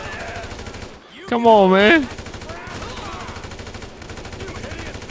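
Automatic gunfire rattles in rapid bursts through a GTA 5 gameplay scene, continuous under the action, with a brief shouted voice cutting in near the middle.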